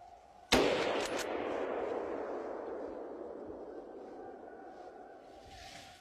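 A single sharp rifle shot fired at a wild boar during a hunt cracks out loud and close, then rolls into a long fading echo across open ground.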